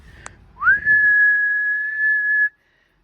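A truck fitted with an S475 SXE turbocharger with a ported shroud and a billet 10-blade compressor wheel lets out one loud, steady whistle that rises quickly, holds level for about two seconds and then cuts off abruptly to silence.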